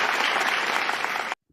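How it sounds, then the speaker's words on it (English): Dense audience applause during an online crypto show, a steady wash of many hands clapping at once that stops abruptly near the end. "That deserves an applause and a pause right there"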